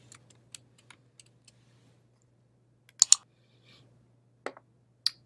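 Sparse, quiet computer mouse clicks during file renaming on a Mac, single taps and a few quick double clicks spread across a near-silent background with faint hum, no talking.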